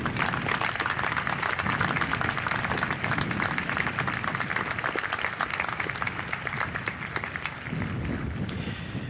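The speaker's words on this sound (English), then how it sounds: "Staff members, please stand for a round of applause" A commencement crowd at Crown Point High School claps for standing staff members, a sustained, dense wash of applause that holds steady for the whole stretch with a slight dip near the end.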